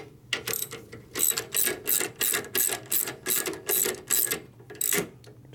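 A ratchet wrench clicks in quick repeated bursts while tightening parts on a 1965 Harley-Davidson panhead 74ci FLH motor, about a dozen sharp close strokes in a steady rhythm with no talk.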